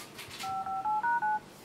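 A quick series of six short electronic keypad tones from a LEAGOO Lead 1 Android phone, each a different pitch, beeping in steady succession, clear and close.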